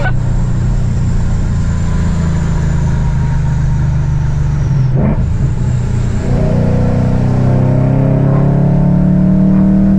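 A car engine revs hard and continuously with tires spinning, loud and close, with a brief dip in pitch mid-way before the roar climbs again.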